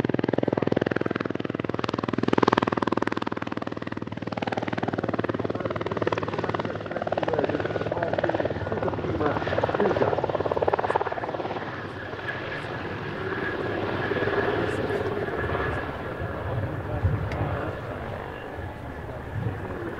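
A Hungarian Air Force Mil Mi-24P Hind attack helicopter flying a display at an air show, its loud, steady rotor and turbine roar filling the air continuously with a slowly shifting drone.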